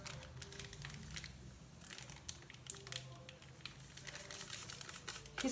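A crinkly packet of instant yeast being handled and torn open in a home kitchen while baking bread rounds, giving continuous close plastic crinkling and rustling with faint background hum.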